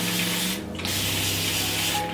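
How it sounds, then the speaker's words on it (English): Water misted from a spray bottle onto hair, a loud, steady hiss that continues with a brief gap in the middle. "So what you want to do is spray your hair with the water."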